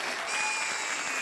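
A studio audience at a comedy show applauds in a dense, even wash of clapping that holds at steady loudness for about a second.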